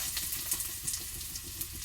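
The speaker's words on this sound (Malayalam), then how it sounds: "അപ്പോൾ ഇനി ആ തേങ്ങ ഒന്ന് വറുത്തെടുക്കാം" Grated coconut frying in hot oil in a pan while cooking a clam tamarind curry, a soft continuous sizzle with small crackling bursts, quiet and close, no voices.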